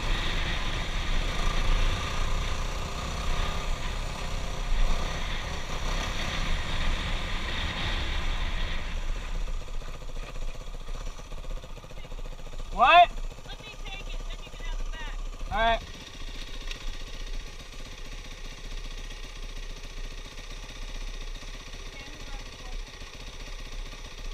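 A motorcycle engine idles with a steady low mechanical rumble that quietens partway through. A few brief squeaky chirps come near the middle, and no one talks.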